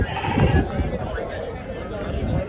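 Sheep and goats bleat amid the crowd at a livestock market in Gali Jageer, faint calls mixed into dense nearby chatter and talk.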